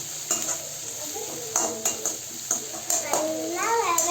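A potato filling sautés in a pan on low heat, with a constant sizzle broken by rhythmic scraping and clinking stirs, while a voice chimes in briefly near the end.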